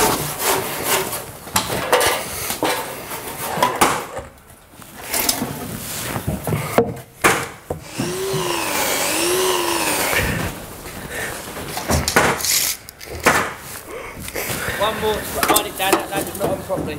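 A saw cuts a wooden jack rafter for an irregular hip roof, making a 22-degree plumb cut and a 38-degree splay cut. Rough rasping strokes come in bursts with short pauses, and voices mix in.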